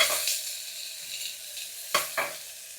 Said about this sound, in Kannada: ಇವಾಗ ಉದ್ದುದ್ದ ಹಚ್ಚಿಟ್ಕೊಂಡಿರೋ ಒಂದು ದಪ್ಪು ಈರುಳ್ಳಿ ಹಾಕ್ಕೊತಾ ಇದ್ದೀನಿ. ಅದನ್ನು ಚೆನ್ನಾಗಿ ಮಿಕ್ಸ್ ಮಾಡ್ಕೊಳ್ಳಿ